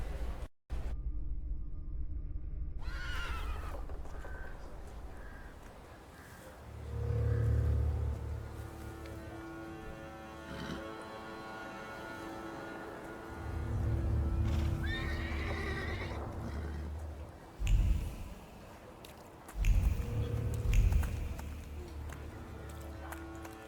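In the video game The Thaumaturge, a horse whinnies and snorts while hooves clip-clop at intervals, with a carriage rumbling over a soft background music bed and no talking.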